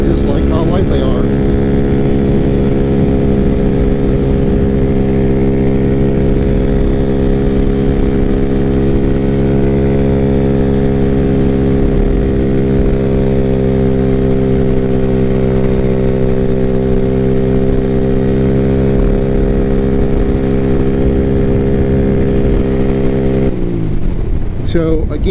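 A 2024 Freedom Fighter 200 EFI mini moto with full bolt-ons cruises the highway in sixth gear, its engine holding a loud, steady drone at constant revs for the whole stretch, dropping away right at the end.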